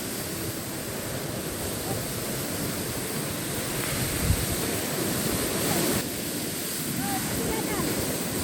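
A huge waterfall at Pale village, with a cave hidden behind it, roars as a steady broadband rush that fills the whole clip, loud and continuous, with wind buffeting the microphone and faint voices underneath.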